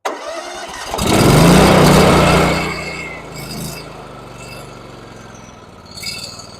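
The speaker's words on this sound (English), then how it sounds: "I let it idle down so that way the motor can warm up" A Bercomac two-stage snowblower engine cranks and catches with a loud burst, then settles into a steady, lower idle, with a few faint clanks.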